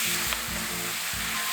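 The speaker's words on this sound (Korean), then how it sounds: "양념한 불고기 반만 구워줄게요." Marinated bulgogi sizzling in a pan, a loud, constant close-up frying hiss with a low rhythmic hum beneath, brief and without pause.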